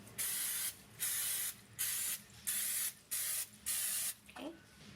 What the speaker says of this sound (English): Now you want to grab some butter spray and you're going to spray the